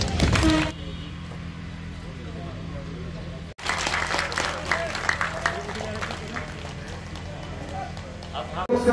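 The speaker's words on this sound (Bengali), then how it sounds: "ওনাকে আবারও পুরস্কারে হাততালি থাকবে" A crowd at a tanker lorry transport workers' union rally claps for an award. A brief burst of clapping is followed by a sharp cut, then sustained, crackling applause under voices that swells again at the end.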